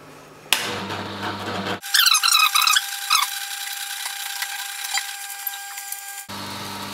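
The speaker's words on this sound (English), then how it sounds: "This is my juicer over here. It's a cold press juicer." A cold press juicer squeezes kale with a grinding, creaking crunch, broken by brief cuts and a section of scraping and rubbing under faint background noise.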